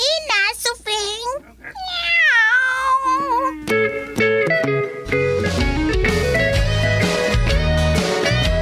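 A cat meows repeatedly, loud and close, with drawn-out wavering calls, then music with a steady beat swells in and carries on beneath.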